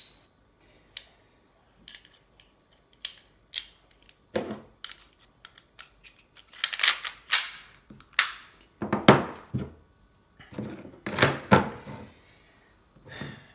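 A Spartan Airsoft Glock 17 pistol is put back together, with sharp plastic clicks and snaps at irregular intervals, sometimes in quick clusters and sometimes with sliding scrapes, close and fairly crisp.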